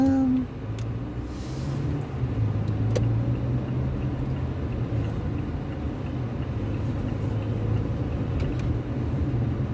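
A car driving through traffic in Saudi Arabia, heard from inside the cabin, gives a steady low engine and road rumble that runs the whole time with faint talk in the background.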